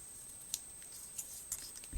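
Scissors trim a thin sliver off a paper card, a few crisp, faint snips spaced irregularly over quiet background.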